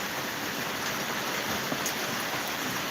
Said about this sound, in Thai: อากาศคึ้มฝนตก